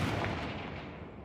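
A Confringo fire spell blast in Hogwarts Legacy, one sharp burst of blast noise that decays into a fading roar over about a second.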